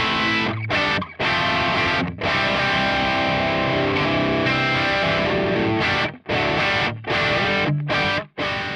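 Cheap amp modeler pedal's first preset, tube screamer, delay and reverb switched off, carries a distorted electric guitar playing loud sustained chords, with several short abrupt gaps between strums and no voices.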